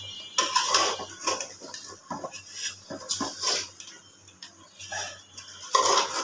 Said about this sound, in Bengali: এই নাটা দিয়ে ধরে আপনি নেড়ে চেড়ে দিবেন, তাহলে শুটকির মশলাটা বেগুনের ঢুকে যাবে।